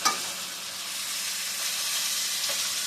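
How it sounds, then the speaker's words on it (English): Chicken cutlets sizzle and hiss in a hot skillet while being stirred, a close, steady frying crackle that begins with a brief scrape and carries on alone at an even level. "Stir them around so they don't burn."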